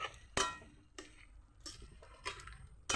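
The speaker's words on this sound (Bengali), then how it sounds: "এবার এটাকে আমি একটু নাড়িয়ে সারিয়ে মিশিয়ে দেব" A utensil knocks and scrapes in a pan while turmeric and salt are stirred into pumpkin greens, a few sharp, sparse clinks separated by quiet gaps, soft and close, with no talking.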